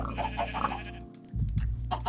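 Chickens cluck in Minecraft, a run of close, loud, choppy bleating squawks repeating in quick succession, pausing briefly and then returning, with no talking.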